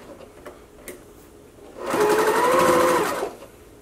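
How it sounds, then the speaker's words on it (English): A sewing machine stitches an edge seam on a see-through face mask, a short loud whirring run of about a second and a half preceded by a few small ticks and clicks, with no talk. "I'm going to start at the edge here and I'm going to do that same sort of edge stitch we talked about."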